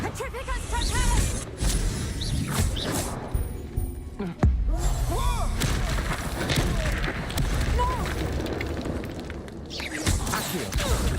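A Petrificus Totalis spell cast in Hogwarts Legacy gameplay, with a sharp magical burst cutting through dense combat effects and background music, alongside other spell sounds.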